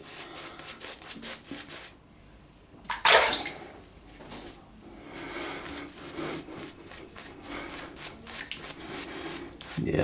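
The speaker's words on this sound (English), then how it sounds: "that's a great lather now. Plenty of hydration in that" Shaving brush whipping up a wet lather, a close, squelchy rubbing swirl with a brief sharp splashy burst early on, then steady brushing strokes until the end.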